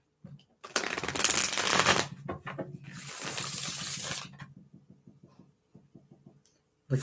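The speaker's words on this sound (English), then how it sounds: "One more shuffle." Tarot cards are riffled and shuffled in two long bursts, followed by a series of light taps as the deck is squared.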